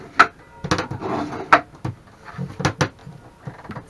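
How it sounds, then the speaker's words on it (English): The wooden interior of a small sailboat creaks and squeaks in a series of short, sharp knocks and scrapes, fairly close, with no voices over them. "the boat is a bit squeaky"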